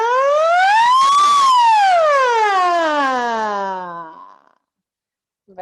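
A single voice imitates a siren, sliding up in pitch and then gliding slowly down for about four seconds before falling silent.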